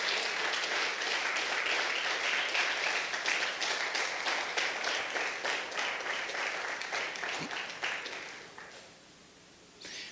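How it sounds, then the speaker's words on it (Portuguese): A church congregation claps for Jesus during a sermon, a thick, steady round of applause that gradually thins and fades out near the end. "dê uma salva de palmas bem bonita para Jesus"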